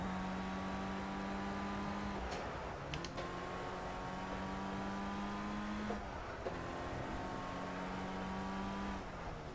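A race car engine in the Project Cars racing game revs up repeatedly through the gears, a steady droning whine that climbs and drops at each shift, with a short clatter between shifts.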